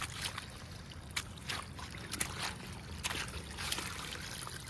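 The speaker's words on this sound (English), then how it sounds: "We got this water flow right here, which is very satisfying and cool. Like a little miniature waterfall." Water trickles and splashes gently over a small miniature waterfall in a backyard pond after a heavy thunderstorm, a soft, steady babble with small irregular splashes.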